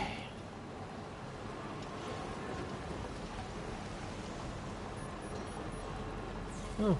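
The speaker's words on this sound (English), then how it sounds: "Oh, rainy." Steady rain hisses in the Death Stranding 2 game world, a soft, continuous wash of drops at low level with no voices over it.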